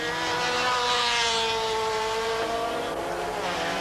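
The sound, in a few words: race car restarting and driving away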